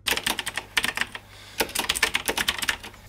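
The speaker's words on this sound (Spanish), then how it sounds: "los Switch Blue la verdad que hacen un buen clic al momento de usarlos" Rapid, crisp clicking of a Logitech G Pro X mechanical keyboard with blue switches, typed in quick bursts with brief pauses, loud and close.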